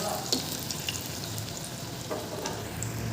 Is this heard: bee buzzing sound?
no